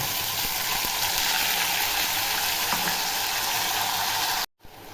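Green herb paste sizzling loudly as it fries in hot oil with cumin and curry leaves in a kadhai for a home-style egg curry, a steady dense crackle that stops abruptly near the end.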